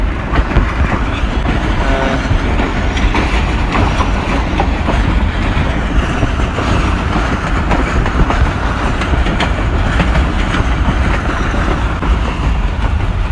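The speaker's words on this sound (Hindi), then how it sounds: "70 to 75 किलोमीटर पर आवर की स्पीड से अभी हमारी 12 टाउन हज़ारा एक्सप्रेस दौड़ रही है" Hazara Express (12 Down) running at about 70 to 75 km/h on an overnight run from Mandi Bahauddin to Multan, heard from aboard as a loud, steady roar with continuous clattering of wheels over the rails.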